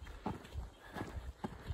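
Cattle walk down a dirt skid road through forest land in Northern California, their hooves thudding in a faint, uneven plodding rhythm heard from some distance.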